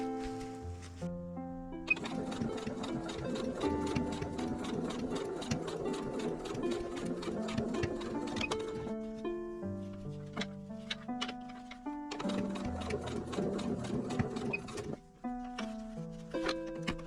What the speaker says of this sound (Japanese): そしてこちらも中表にここ3枚縫っていきます。